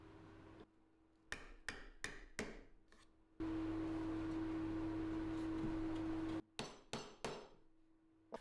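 Sharp hammer strikes nailing the wooden roof of a small bug house, a few near, loud knocks in quick succession, then a steady hum from a power tool, followed by more distinct hammer blows.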